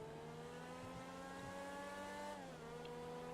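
X80 Proto supercar engine in GTA 5, a steady sustained drone that holds pitch and then drops slightly as if shifting or easing off throttle, faint and continuous with no talk.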